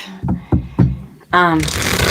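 Tarot cards are shuffled close by in a few quick riffles, then a longer cascading flutter, while a voice speaks briefly.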